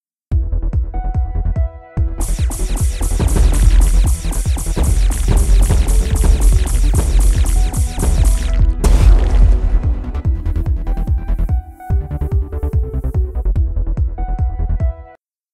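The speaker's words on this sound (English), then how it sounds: "Now the explosions are still bright and snappy, but the player's weapons and the background music are not so overwhelming." Laser weapon fire and explosions from the Unity Space Shooter game sound as a rapid, rhythmic stream of electronic shots over a loud, continuous background music track, with brief dropouts and a burst near the middle.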